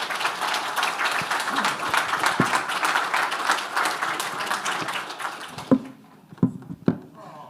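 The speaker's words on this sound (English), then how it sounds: "And I think this also demands a big applause." Audience at the Baltic Valuation Conference applauding in a hall, dense clapping for about five seconds that thins out into a few scattered final claps, with some voices underneath.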